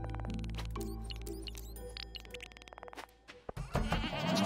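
Farm cows in Stardew Valley give several overlapping game-style moos and bleats, loud and close at first, then thinning into scattered short calls before a burst of noisy activity at the end, with no talking.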